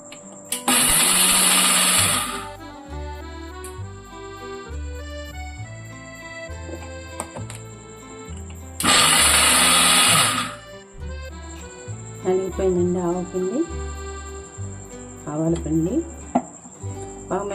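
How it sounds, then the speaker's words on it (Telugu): An electric mixie grinds dried mustard seeds for mango avakaya pickle in two short, loud bursts, each about two seconds long and several seconds apart, over steady background music. "కొంచెం మిక్సీ చేసుకున్నాము"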